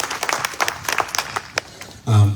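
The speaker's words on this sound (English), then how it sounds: "So one more round of applause for the great session." An audience at a 9/11 Day of Service event in Chicago gives scattered, moderate applause after a session. The claps are uneven and thin out over two seconds before a low thump ends it.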